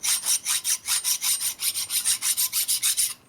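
A 1979 93ci Harley shovelhead motor part turns in a lathe with its high spots rubbing, a rapid, even rasping scrape pulsing about five times a second, close and steady with no talking.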